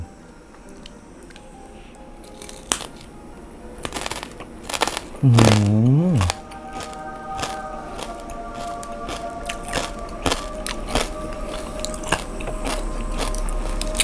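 Crispy pork belly eaten with egg noodles, loud close bites and crunchy chewing in scattered bursts, with a brief muffled vocal murmur partway through and faint background hum.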